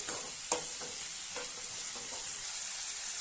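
Tomatoes, onion and garlic sauté in a pan for a garlic kuzhambu with a steady soft sizzle. A few sharp spatula scrapes and taps sit over it, heard close with no voices.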